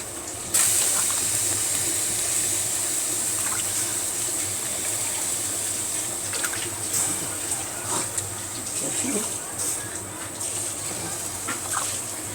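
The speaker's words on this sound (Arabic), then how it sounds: "هعلي عليه النار غلوه واغطيها، غلوه واحده واروح مغطيها" A pot of bean and meat stew boils on a stovetop, giving a steady, moderately faint bubbling hiss that runs unbroken throughout, with small bursts of simmering now and then.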